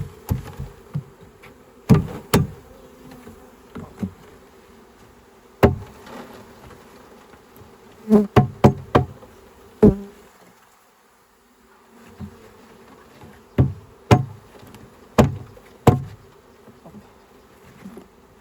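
Bees hum in a steady low drone around a hive while frames are handled and shaken, broken by sharp knocks and thumps, with a brief quiet gap midway.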